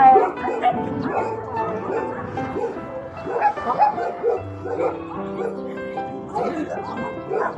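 Small corgi dogs bark and yip excitedly in quick bursts while playfighting, with occasional whimpers, while people talk nearby at a dog rescue shelter.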